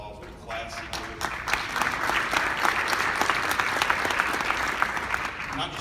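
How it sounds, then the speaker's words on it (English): Audience applause for a college softball coaching staff at an awards event, a loud, sustained round of clapping with sharp individual claps standing out and faint crowd murmur underneath. "I think we should give them another round of applause."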